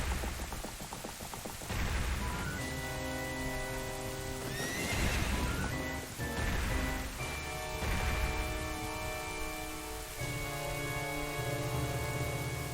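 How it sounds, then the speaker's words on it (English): Horses neigh and whinny with clip-clopping hooves in the rainy opening of the video game The Legend of Zelda: Ocarina of Time, set under a dense, continuous musical score, with a loud whinny near the middle. "mysterious people on horses."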